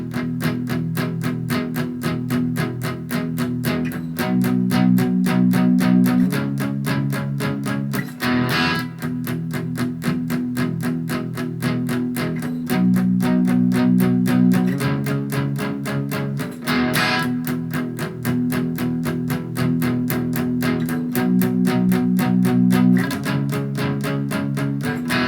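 Guitar plays the middle section of a song, a loud, distorted, effects-laden part with steady repeated strums and accented bursts recurring every few seconds, sustained and continuous with no talking.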